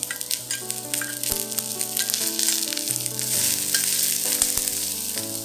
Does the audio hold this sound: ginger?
yes